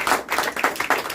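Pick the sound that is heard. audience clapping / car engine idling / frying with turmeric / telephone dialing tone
audience clapping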